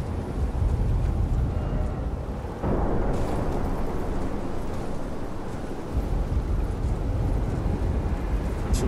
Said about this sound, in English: I kind of do hear lightning still though.